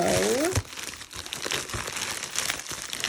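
Bubble wrap crinkles and rustles in brief, irregular bursts after a short spoken word at the start, fairly close and moderately loud.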